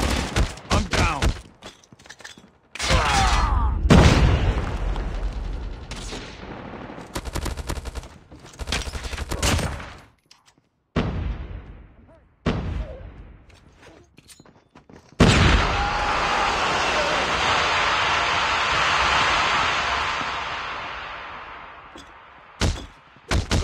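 Bursts of automatic gunfire and explosive shots in a Call of Duty: Mobile ranked match, loud and close, coming in irregular clusters with gaps between and a long sustained stretch of firing near the end.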